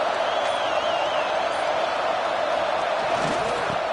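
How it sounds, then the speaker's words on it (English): Dense, steady roar of a football stadium crowd early in a game, a continuous wash of cheering and noise filling the whole stretch with no clear breaks. "Listen to the crowd energy here in the early going."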